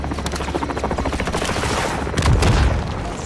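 Heavy gunfire and explosive booms from a helicopter gunship striking a building in Call of Duty: Modern Warfare 2, loud and continuous, with a deeper blast swelling near the end.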